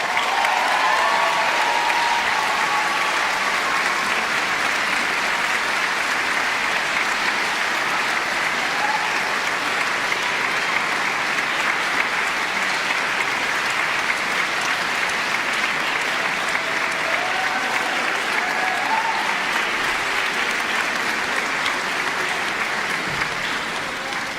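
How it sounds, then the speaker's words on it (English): An audience at a music competition prize announcement gives the six finalists a long, sustained round of applause. The clapping stays thick and even throughout, with a few faint voices underneath. "Let's have a huge round of applause for all the 6 finalists."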